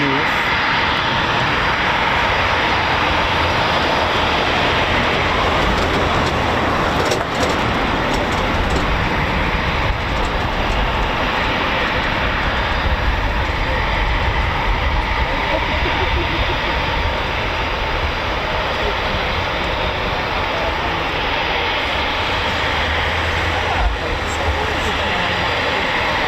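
A Eurofighter Typhoon FGR4 jet passing overhead near RAF Coningsby, a loud continuous broadband roar that holds steady throughout, with people talking nearby partway through.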